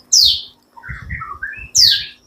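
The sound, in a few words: white-rumped shama singing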